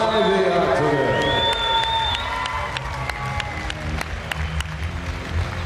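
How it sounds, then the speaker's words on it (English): A crowd claps and cheers loudly for two fighters in the octagon at a KOTC mixed martial arts event, with whoops and shouts over dense, sustained applause that gradually thins out. "Can we have a round of applause, please, for the two warriors inside the octagon?"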